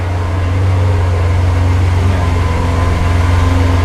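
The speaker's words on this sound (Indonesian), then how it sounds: "ini knalpot suaranya adem gitu ya" A Lamborghini LP700 replica supercar idles while warming up, its exhaust giving a loud, steady low drone with a constant hum, close to the microphone and with no talk.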